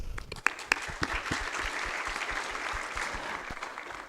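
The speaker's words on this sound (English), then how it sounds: "Let's give a big round of applause for all of us." A seminar audience claps steadily through the whole stretch, a dense applause with a few sharp, close claps standing out near the start.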